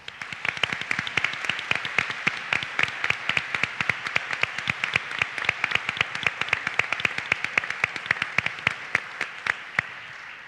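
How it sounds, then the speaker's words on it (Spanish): Audience applause at a university postgraduate closing and awards ceremony in Jaén, a long run of dense, crisp hand claps, close and steady throughout, with no talking. "yo os pediría un aplauso por Alejandra"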